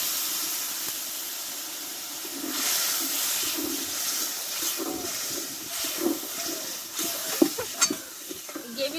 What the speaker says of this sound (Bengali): দেখো মশলাটা কিন্তু কষা হয়ে গেছে এবার আমি জল দিয়ে দেবো একটু অল্প করে